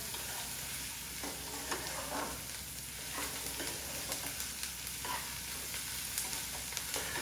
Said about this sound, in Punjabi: ਲੋ ਜੀ ਇਸ ਤਰ੍ਹਾਂ ਆਪਾਂ ਪਿਆਜ਼ ਆ ਜਿਹੜੇ ਉਹ ਭੁੰਨ ਲਾਂਗੇ